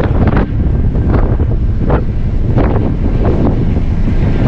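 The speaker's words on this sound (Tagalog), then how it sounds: "Lakas ang hangin" Strong, cold wind buffets the microphone in loud, continuous gusts on a cargo ship deck, with a rushing roar throughout and no speech.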